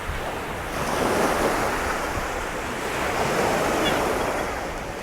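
Sea waves washing onto a slippery rocky shore near Can Picafort, Mallorca, a steady close surf rush with wind buffeting the microphone, no voices.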